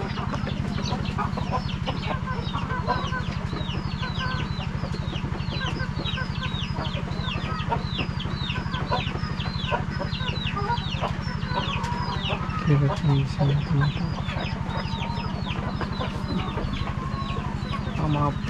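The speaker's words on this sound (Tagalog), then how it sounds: "yung importante guys yung mga manok natin na naingitlog" Egg-laying hens cluck and chatter continuously in a busy farm flock, with scattered higher calls over a steady low hum throughout.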